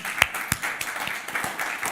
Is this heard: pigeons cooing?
no